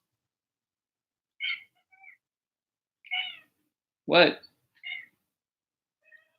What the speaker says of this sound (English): My cat's going to come in here running his mouth.